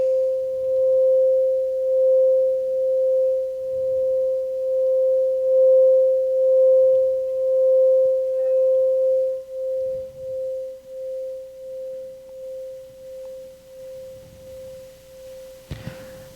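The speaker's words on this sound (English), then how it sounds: "So the different singing bowls that we have" A singing bowl rings with one pure, steady tone that sustains for many seconds and slowly pulses as it fades, with faint room noise beneath.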